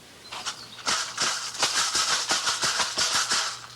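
Turtle shell leg rattles strapped on for an all-night dance are shaken in a steady series of sharp, dry clattering bursts, close and fairly loud, with the pebbles or seeds inside rattling against the shell.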